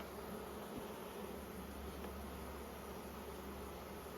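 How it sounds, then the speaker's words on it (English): Honey bees crawling on hive frames in an apiary hive that has run out of space, a steady, close, calm humming buzz that holds at an even level throughout with no voices. "Lovely quiet bees, just sit nicely on the frames."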